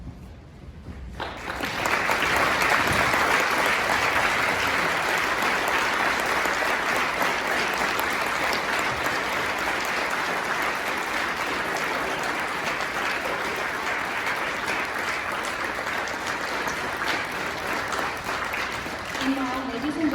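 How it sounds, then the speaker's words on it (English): Sustained audience applause at a Veterans Day program honoring veterans, a dense steady clapping that swells in after a quiet first second and holds loud for nearly twenty seconds, with no talking over it. "please rise so that you may be recognized with a round of applause of appreciation"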